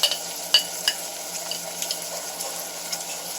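Chopped onion frying in really hot oil for a spicy chicken curry, a steady bright sizzle with a few sharp pops and stirring clicks, close and even.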